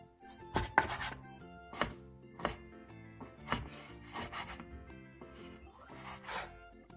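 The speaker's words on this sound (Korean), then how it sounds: "소고기 양지 300g을 결 반대 방향으로 잘라주세요" A knife slices 300 g of beef brisket across the grain on a wooden board, with about seven rhythmic cutting strokes, each a soft thud with a brief scrape, over quiet background music.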